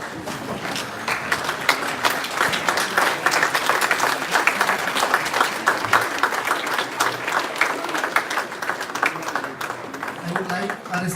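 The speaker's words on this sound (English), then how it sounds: "We request the audience to stand up and honor our esteemed guests with a big round of applause." Dense, sustained applause from a standing audience honoring guests at a pre-departure ceremony, fairly loud and continuous with crisp individual claps.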